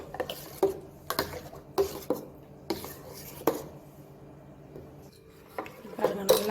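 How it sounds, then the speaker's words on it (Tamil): A spoon scrapes and clinks rhythmically against a metal pot, stirring a thick ground paste mixture in repeated strokes with a short pause partway through. "இதை நல்லா கலக்கிக்கலாம்."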